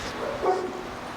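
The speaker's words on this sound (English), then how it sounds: "stop barking. It's all good." A single short dog bark sounds from nearby during a dog training conversation, brief and moderately loud over a soft room background.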